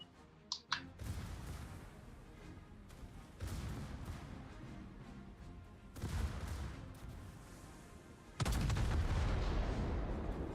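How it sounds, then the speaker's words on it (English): Naval gunfire from warships in World of Warships, firing high-explosive shells at a coastal gun: several heavy booming salvos separated by a few seconds, each followed by rumbling decay, after a couple of sharp clicks at the start. "He's shooting HE at the coastal gun."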